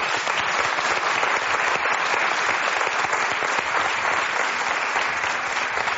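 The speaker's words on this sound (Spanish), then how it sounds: "este aplauso es para ti." A studio audience breaks into thick, sustained applause for María, even and unbroken from start to finish, loud and close with no voices over it.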